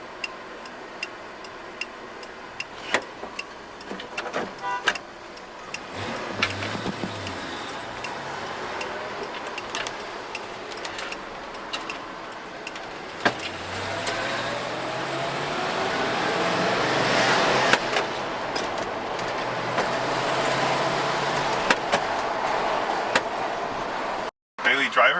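A Ford F-100 pickup on a test drive, its engine hum and road rumble building steadily as it picks up speed, with ticking clicks and cabin rattles scattered throughout, heard from inside the cab.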